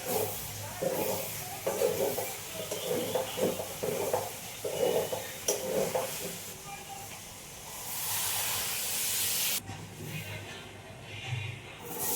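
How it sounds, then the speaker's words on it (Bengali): Papad frying in a pan, a faint hiss and sizzle with occasional stirring and soft clinks of cookware in a home kitchen, steady and low in level. "এখন এই পাঁপড়গুলো ভেজে নিচ্ছি"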